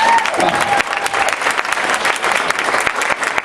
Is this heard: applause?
yes